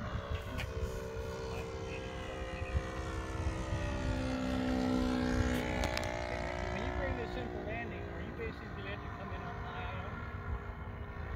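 An RC racer plane with a DA petrol engine drones steadily in flight, its pitch sweeping up and down as it passes overhead at a distance. People talk over the engine throughout.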